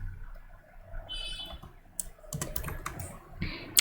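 Computer keyboard keys tapped while entering a command in MATLAB, a few quick clicks early on followed by a denser burst of keystrokes in the second half, fairly close and fairly faint over a low room hum.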